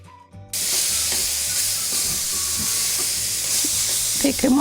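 Grated carrot halwa roasting in desi ghee, a steady close hiss and sizzle with soft stirring scrapes throughout.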